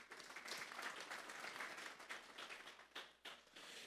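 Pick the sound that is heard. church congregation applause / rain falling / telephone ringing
church congregation applause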